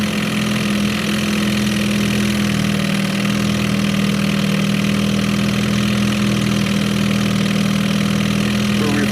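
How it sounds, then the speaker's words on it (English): A 4 hp Evinrude Excel outboard motor idles steadily in water on a test run, giving an even, continuous mid-pitched putter with a strong low hum and no talk over it. "Just gonna let it idle here for a minute and see if it wants to do anything stupid."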